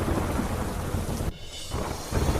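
Heavy rain pours down over farm fields with thunder rumbling, a loud dense roar that drops away briefly before resuming.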